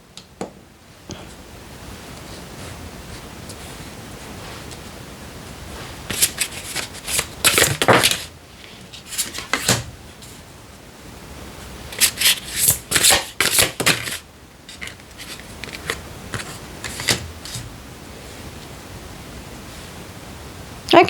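Tarot cards are shuffled close by in several quick bursts of riffling and flapping, separated by quieter stretches of soft hiss.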